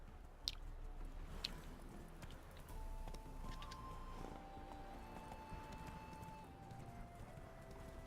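Horse hooves clip-clop steadily in the Red Dead Redemption video game, a soft rhythmic trot that stays quiet and even throughout.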